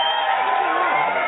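Studio audience clapping and cheering during a football podcast taping, a dense, loud, continuous wash of applause and whoops that holds steady for the whole moment.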